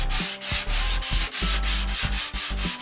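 Hand sanding with steady back-and-forth strokes, about a dozen rhythmic rasping passes close by and loud, each stroke separated by a brief pause.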